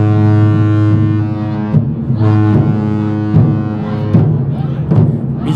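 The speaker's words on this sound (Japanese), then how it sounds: "短い汽笛がね3回になったということで" A ship's horn sounds three loud, short blasts separated by brief gaps in Kobe port, with wind and dull thumps in the background.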